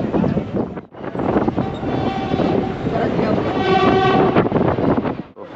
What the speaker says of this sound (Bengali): এই বাগনান থেকে ছেড়ে এই হাওড়ার দিকে যাচ্ছে এই গাড়িটি।